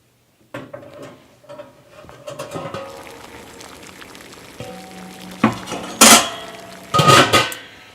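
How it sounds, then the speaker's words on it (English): Glass canning jars of homemade blueberry sauce clink in a metal rack as it is lowered into a boiling water bath canner, with scattered knocks, rattles and bursts of bubbling and splashing water close by. "just place your jars in the rack, and then you just place it down in the boiling water"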